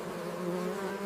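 Honeybees buzz inside a hive in a dense, steady hum, a close and even drone of many wings with no voices.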